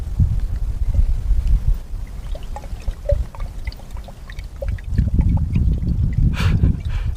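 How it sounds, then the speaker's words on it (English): Vitamin C powder fizzing in a glass of water with methylene blue, a steady close effervescent hiss and crackle of bubbles, with low rumbling handling noise throughout. "at this point now you got a nice fizzy drink"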